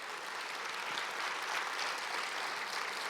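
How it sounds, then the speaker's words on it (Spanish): A church congregation claps during a service, a steady wash of applause heard from some distance, fairly quiet and even throughout with no voices over it. "Dele un fuerte aplauso a Dios."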